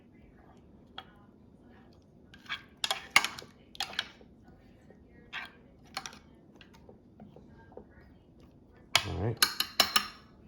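A spoon stirring a carne asada marinade in a bowl, irregular clinks and scrapes against the bowl in short close bursts, with a brief spoken remark.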